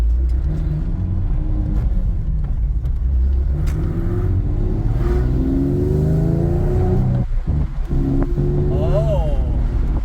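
Sports car with a low stance and drive-by-wire throttle, its engine idling and warming up with a steady low rumble and a few rising revs, loud and close, with people talking over it inside the cabin.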